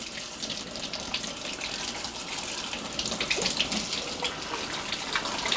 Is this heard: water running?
yes